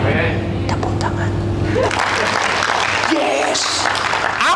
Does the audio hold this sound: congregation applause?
yes